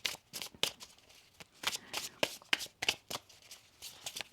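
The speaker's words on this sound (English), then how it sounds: "One more shuffle here." Tarot cards are riffled and shuffled in quick, crisp bursts, close and fairly quiet, with no talking.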